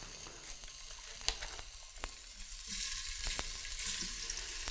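Beef stew meat browning in a Cosori electric pressure cooker: a steady sizzling fry with occasional sharp pops and crackles, growing denser and louder in the second half, close up with no talking.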